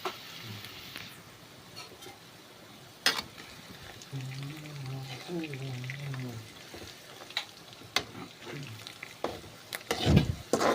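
Onions fry in oil in a home kitchen, producing a faint, low-level sizzle with scattered clinks and clatter; a brief voice is heard partway through.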